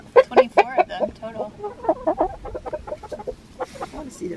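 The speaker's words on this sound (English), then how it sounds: "Gosh, there's so many chickens." A flock of about 24 chickens cluck in a burst of short, busy calls close by, fading into softer scattered clucks and rustling over a few seconds.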